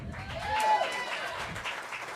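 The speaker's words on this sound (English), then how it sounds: "Go ahead and give another round of applause." Audience applause at a jazz festival's collegiate combo competition, soft and somewhat distant clapping with a brief whistle and a voice over the top.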